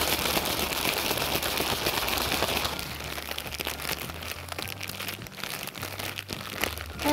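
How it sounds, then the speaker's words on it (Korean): Crinkly plastic rustling as a zipper bag of soap flakes is shaken rapidly and continuously at first, then quieter scattered crackles with a low hum underneath. "손잡이 이 부분을 잡고 색이 잘 나올 수 있게 흔들어 주세요."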